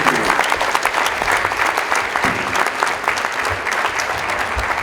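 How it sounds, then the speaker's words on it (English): An audience at an annual public lecture breaks into sustained, dense applause that stays loud and steady from start to finish, with no break in the clapping. "Can we keep clapping?"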